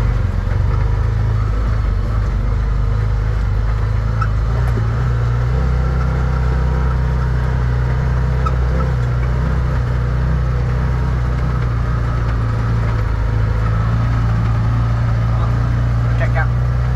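A Ferrari 488 engine runs with a deep, steady idle rumble close by, a continuous low throb that holds for the whole stretch with little change in loudness.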